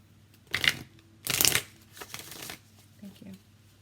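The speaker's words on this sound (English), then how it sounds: "I'm actually going to shuffle it this way." Oracle cards being shuffled by hand in a few short bursts of papery riffling, close and fairly quiet, with brief pauses between shuffles.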